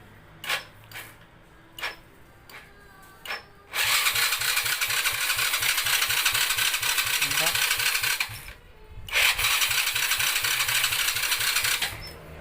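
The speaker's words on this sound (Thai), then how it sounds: "นี่นะครับสตาร์ทมือจะเป็นอย่างนี้นะครับ แล้วมันก็จะไม่ติด" Honda Dream 100 motorcycle with a full battery, its electric starter cranking in two long bursts of rapid, rhythmic churning without the engine catching, preceded by a few short clicks and pauses, close and loud.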